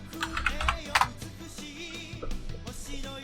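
Computer keyboard typing at a desk in a podcast setting, a loose run of quick clicks with a louder cluster near the start, then softer scattered taps, close but fairly quiet.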